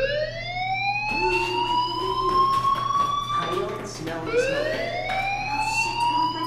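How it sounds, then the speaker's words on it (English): A fire alarm in the video game Life is Strange wails in rising, sweeping electronic tones that repeat over several seconds, with characters talking over it. "Do you hear that fire alarm?"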